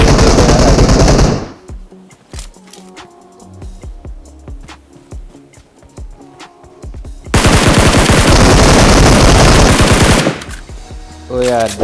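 Bursts of automatic gunfire from the mobile battle royale game PUBG Mobile, played solo in third-person view; loud rapid volleys open and close the stretch, with sparser single shots and clicks between them and no talk.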